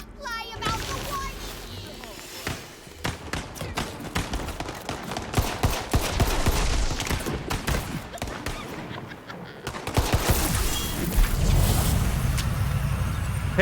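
Rapid gunfire in Tiny Tina's Wonderlands, dense bursts of shots and automatic fire crackling close and loud, with busy effects and a voice heard over the top.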